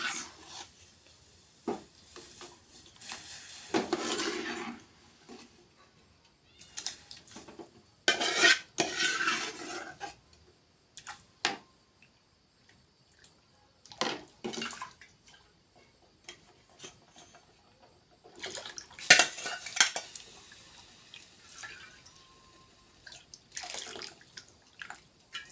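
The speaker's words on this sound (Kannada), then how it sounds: "ಇವಾಗ ತಿರುವಾಡಬೇಕು, ಇಲ್ಲಾಂದ್ರೆ ಗಂಟು ಹಾಕೋರಿ ಫ್ರೆಂಡ್ಸ್" Soaked semolina stirred into boiling water in a pot for a North Karnataka dish, with intermittent scraping and clinking of a spoon against metal, bursts of stirring separated by quiet gaps.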